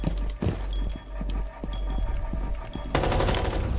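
Gunfire in the tactical shooter Rainbow Six Siege, with scattered single shots and short bursts over steady game ambience, then a louder, denser volley near the end.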